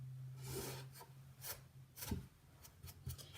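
Soft cloth rubbing dark wax over painted furniture, a faint close swishing and scuffing in uneven strokes with brief pauses between passes.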